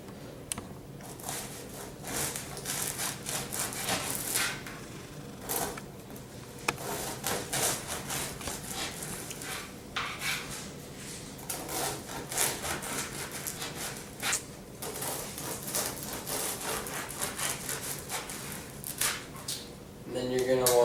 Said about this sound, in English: Next, you want to cut the baguette into thin slices with your bread knife.